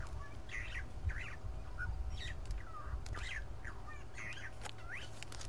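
Starlings chatter in the wild during an evening safari drive, with repeated squawks, whistles and chirps rising over a low rumbling engine background at moderate distance.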